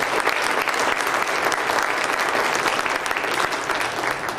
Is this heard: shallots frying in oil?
no